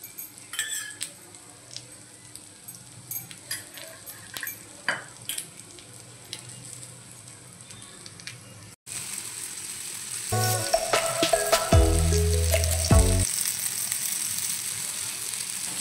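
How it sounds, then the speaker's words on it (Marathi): Pomfret coated in semolina shallow-frying in oil in a Malvani-style kitchen. A soft, steady sizzle is broken by light utensil clicks and scrapes, then oil is added and the frying grows louder and brighter. "आता दुसऱ्या साइडनेही आपण फ्राय करून घेऊया। थोडंसं आपल्याला तेल सोडायचं आहे."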